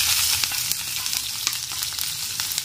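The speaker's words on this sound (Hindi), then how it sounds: "इसे मैं 2 से 3 मिनट तक भून लेती हूँ मीडियम गैस पर।" Green chillies and garlic sizzle in hot mustard oil with carom seeds and asafoetida, a dense, close crackle with scattered sharp pops, steady and loud, with no one talking.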